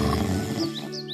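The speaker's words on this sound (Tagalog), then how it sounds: "nakarinig sila ng malalakas na hilik na umaalingaw-ngaw mula sa kuweba ng oso" A bear snoring loudly inside a cave in a children's fairy tale, a deep, rough, echoing rumble that holds steady through the brief moment, close and loud with no talking.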